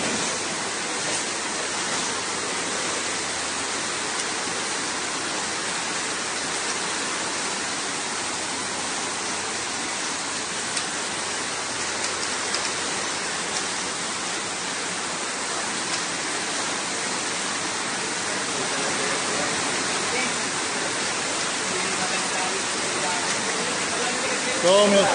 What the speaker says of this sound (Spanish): Y sigue lloviendo.